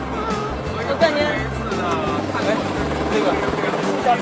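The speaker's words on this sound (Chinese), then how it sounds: "我今天是第一次坐直升飞机，所以今天特别特别激动。" Cabin of a helicopter in flight over Yili, a loud continuous rotor and engine drone filling the space with throbbing low tones, while passengers chatter excitedly over it.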